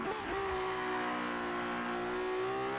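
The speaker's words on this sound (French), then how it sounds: "Elle est pas mal cette petite Ferrari" Ferrari engine in Forza Horizon 3 holding a steady, sustained high-pitched drone at constant revs, loud and close, with a brief shift in pitch near the start and no talk over it.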